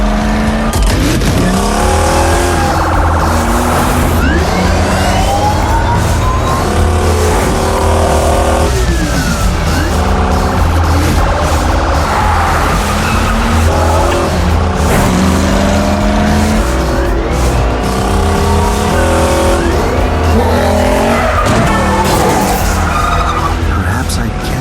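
A film car chase roars throughout, with revving engines, repeated screeching tire squeals and skids, and vehicles rushing past, loud and close. Music and voices mix in beneath the constant engine noise.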